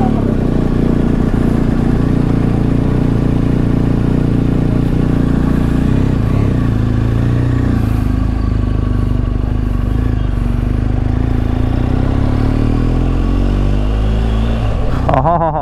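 A BMW GS Adventure motorcycle on a monsoon ride, its engine droning loud and steady and close for the whole stretch, with a brief surge of changing pitch near the end.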